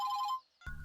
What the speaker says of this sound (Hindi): ये कौन फोन कर रहा है?